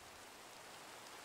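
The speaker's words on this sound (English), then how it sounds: "That rain is loud." Steady rain in a modded Minecraft world (All The Mods 7), a continuous soft hiss of falling drops that stays even and fairly quiet throughout, with no talking.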